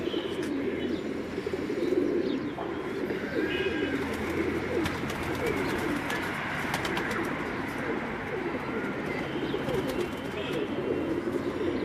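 A Ferozpuri pigeon coos on a rooftop in Islamabad, its low repeated coos rolling on continuously and fairly close, with faint chirps from other birds around it.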